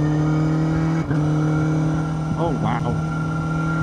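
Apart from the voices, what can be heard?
Suzuki GSX1000GX motorcycle engine on test ride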